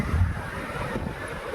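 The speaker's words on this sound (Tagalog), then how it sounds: "At mahangin ngayon" Wind gusts over a seaside beach and seawall at high tide, with a steady low rumbling roar of moving air and surf and no voices.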